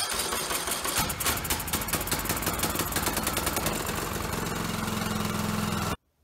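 A Briggs & Stratton small engine on full choke with starting fluid cranks and fires up right away, settling into a loud steady running rattle before cutting off abruptly.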